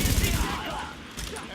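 Gunfire from the video game The Division, a dense burst of shots loudest in the first half and easing into a steady rattling crossfire, with a voice speaking over part of it.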